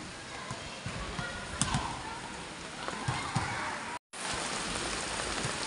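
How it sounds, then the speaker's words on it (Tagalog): Heavy rain pours down in a steady, dense hiss with scattered louder drops hitting a surface nearby. A brief dropout comes just after the four-second mark. "Yeah, so raining too much."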